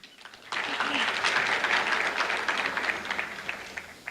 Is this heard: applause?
yes